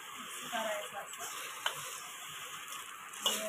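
Food is stirred and mixed in a hot pan, with a soft sizzle and occasional scraping clinks of the spoon against the metal, fairly quiet overall.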